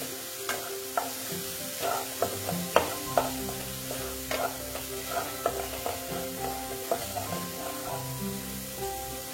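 Spice paste with chili powder frying for a pabda fish curry, a low sizzle under frequent sharp clinks and scrapes of a spoon stirring in the pan, close and rhythmic.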